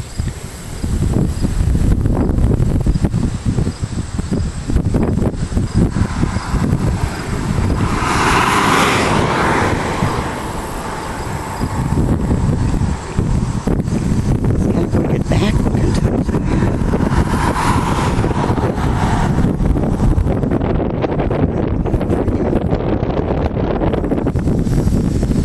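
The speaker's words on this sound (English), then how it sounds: "Wind is coming from the south, getting sucked up in that baby." Strong wind roaring during a storm, a loud, steady rush buffeting the microphone with gusts swelling and easing, while someone talks intermittently over it.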